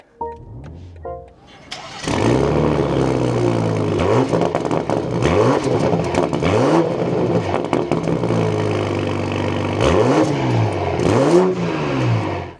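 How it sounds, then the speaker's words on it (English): A 2026 BMW M340i with an M Performance exhaust cranks and fires up, then settles into a deep idle broken by several sharp throttle blips that rise and fall, heard close and loud after a brief spoken word. "let's start this back up and take a listen to the revs for that MP exhaust"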